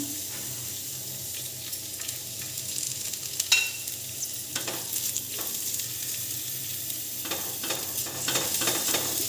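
Oil crackles and sizzles steadily on a new dosa pan being seasoned, with scattered scraping and stirring clicks and a few sharper metallic taps, close and fairly quiet, no voices.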